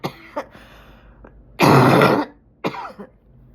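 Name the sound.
cough and throat clearing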